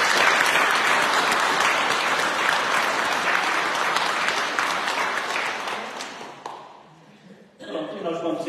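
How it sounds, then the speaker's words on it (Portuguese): A church congregation gives a round of applause during a Sunday Eucharist celebration, dense and loud clapping that holds steady, then fades and stops before a voice speaks again. "para elas acho que é uma salva de palmas"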